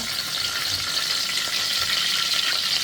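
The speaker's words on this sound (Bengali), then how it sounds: "প্রথমে আমি দিয়ে দিলাম গরম তেলে দুটো তেজপাতা" Two bay leaves sizzle in hot oil in a pan as a dal is begun, a steady bright crackling hiss that stays even and close for the whole stretch, with no voices.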